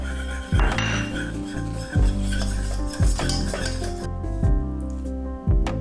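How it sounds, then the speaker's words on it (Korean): A spoon scrapes and stirs a thick flour roux toasting in a pan for Japanese curry, with steady, repeated strokes, a soft sizzle and light clinks, over quiet background music. "여기서는 금색빛이 날 때까지만 볶아줄게요"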